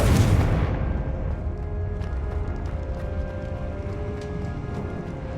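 A Confringo fire spell from Hogwarts Legacy lands as a loud, bright burst at the start, followed by a low rumbling tail that lingers and slowly fades.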